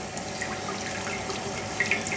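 Cold water circulating through the heat exchanger of a moonshine still column: a steady, quiet trickling and running of water, continuous for the whole stretch with a few faint drips, no voices.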